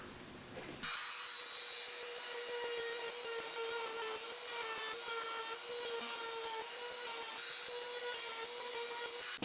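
A power tool, likely a router, cutting a groove in MDF guided by a dowel, whining loud and steady with a constant high pitched tone, starting abruptly after a brief pause and running continuously.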